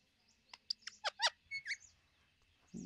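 A parrot gives a run of sharp, chattering calls that rise and fall like mocking laughter, close and fairly loud, with short gaps between bursts and no talk.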